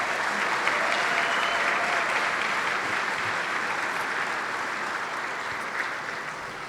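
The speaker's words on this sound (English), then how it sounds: "give Mike a big round of applause for putting together this great event" Dense, steady applause from an audience at an evening hall-of-fame induction event, filling the whole stretch at close range and easing off slightly toward the end, with no voices over it.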